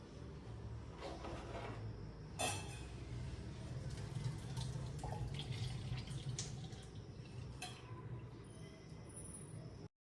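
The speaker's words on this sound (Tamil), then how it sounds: "இப்போ வந்து அந்த வடிச்சிட்ட உடனே நார்மல் வாட்டர் இருக்கு இல்லையா, அதை எடுத்து வாஷ் பண்ணிவிடுங்க" Plain water rinses freshly drained homemade paneer in a kitchen, a soft continuous running-water hiss with a few sharp clinks of utensils and occasional drips, fairly close and steady throughout.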